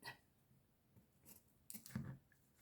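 Scissors cutting paper for a scrapbooking card, a few quiet, close snips and rustles spaced unevenly, with a brief burst of cutting near the end and no voices.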